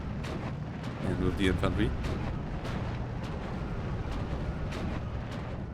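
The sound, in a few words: artillery fire in a WWII strategy video game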